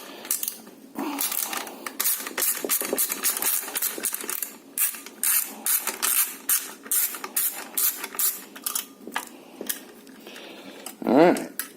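Bolts being worked loose on a GasBike 79cc small engine during a throttle modification, with dense clicking, ticking and ratcheting bursts that come in quick irregular runs close by, and a brief squeak near the end.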